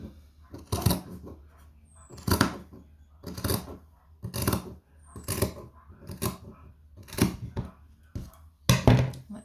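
Scissors snip through jumper fabric in about eight separate close cuts at a steady rhythm, each a crisp rasping crunch, with quiet pauses between cuts.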